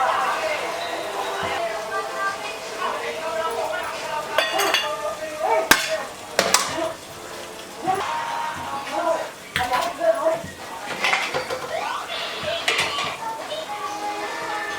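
Onions for biryani frying in a pan, with repeated metal spoon scrapes and clinks against the pan over a soft sizzle, close and irregular, while a person talks intermittently.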